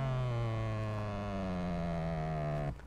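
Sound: power seat moving forward in 2021 Ford Mustang GT Convertible

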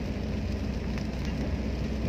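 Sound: rain while driving in a car

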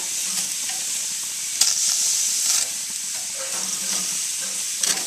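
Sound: steak sizzling in a pan while being stirred

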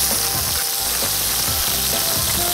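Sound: sliced turkey meat frying in olive oil in a pan

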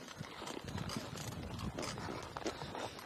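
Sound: bay mare's hooves moving sideways

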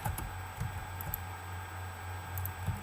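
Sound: computer keyboard keys pressed

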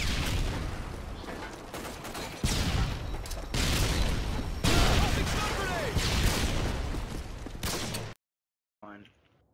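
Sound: stun grenade thrown in a video game

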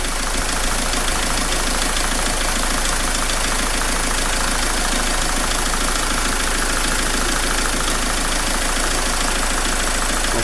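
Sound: Dacia Logan dCi diesel engine idling after cleaning

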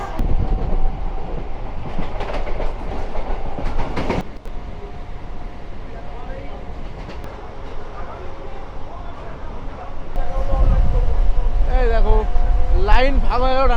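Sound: Bardhaman–Howrah chord line super local train running

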